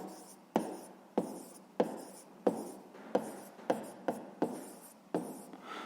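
A pen or pencil writing out a math solution for a cube-volume problem, a quiet run of about a dozen short scratchy strokes in an uneven rhythm, close up with no voices.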